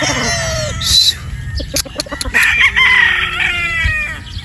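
A possum sweater broodstag rooster crows loudly nearby, a full drawn-out call with other fowl clucking and chirping around it.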